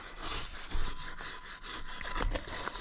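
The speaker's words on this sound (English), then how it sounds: "Pulling them out, scrubbing on them a little bit, anything that's still stuck on them" Scrubbing Ford 460 engine valves clean by hand, giving a close, steady rasping rub in repeated strokes that runs throughout with no talk.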